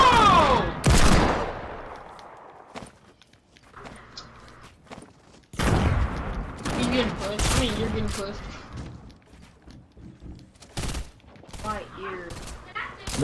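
Fortnite Battle Royale gunfire in a sniper-only duo match: repeated sharp shots and scattered bursts ring out amid game noise, while players talk excitedly over much of the action.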